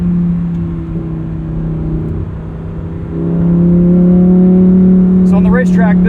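A 2023 Lamborghini Huracan Tecnica pulls away in manual shift mode, its engine a steady drone that swells louder partway through as it builds revs, with a brief higher whine near the end.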